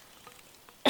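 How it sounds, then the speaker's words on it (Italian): A single short, loud cough, brought on by grappa, bursts out at the very end after near-quiet on a mountain hiking trail near Monte Verena on the Asiago Plateau. "La grappa mi ha fatto la tosse."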